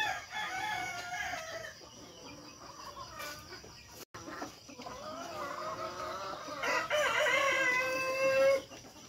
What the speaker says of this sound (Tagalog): papakita ko sa inyo ang dami nilang alagang manok.